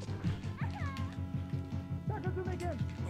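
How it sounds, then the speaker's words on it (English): A pet cat meows repeatedly and insistently close by, its whiny cries rising and falling over a steady backdrop of retro SNES fighting game music and effects. "Because he will meow and scratch the door if I don't."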